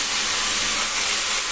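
Marinated chicken hitting a pan of fried onions, a loud, even sizzling hiss that carries unbroken throughout, close up with no talk.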